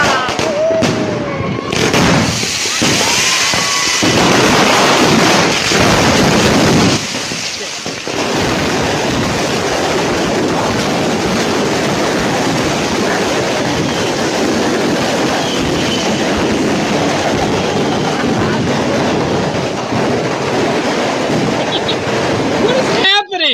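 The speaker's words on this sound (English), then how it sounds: "It looks like they had a box of mortars that tipped over on its side and started shooting at everybody" Firework mortars from a tipped-over box fire at a party in a dense, continuous barrage of loud cracks and bangs lasting over twenty seconds, with voices shouting faintly underneath.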